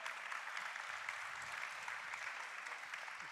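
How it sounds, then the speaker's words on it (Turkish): An audience applauds steadily, a soft, even patter of many hands clapping that stays faint and continuous throughout. "Ağını ölümsüzleştiren bu ustalara da alkış rica ediyorum sizlerden."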